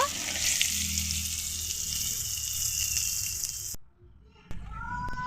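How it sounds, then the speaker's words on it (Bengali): Shrimp rubbed with salt and turmeric frying in hot oil in a pan, a continuous loud sizzle that suddenly cuts off near the end, followed by quieter clinks and a faint tonal sound. "চিংড়ি মাছগুলো খুব ভালোভাবে ভেজে নিয়েছি এরপরে নামিয়ে নেব"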